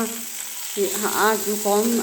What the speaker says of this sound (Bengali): ভাজা হয়ে গেল ওই পিঠ, এবারে এই পিঠ ভাজা হচ্ছে।